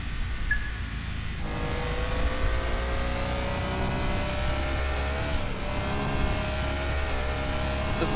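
A race car's engine in Car Mechanic Simulator revs hard and holds a steady, rising whine around the track, loud and continuous with gear-change steps and no talking.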